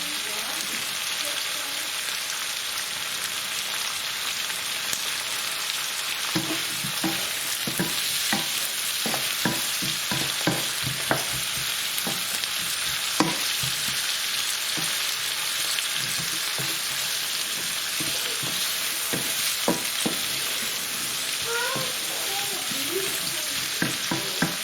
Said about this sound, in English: So I'm going to leave that to fry for a few minutes.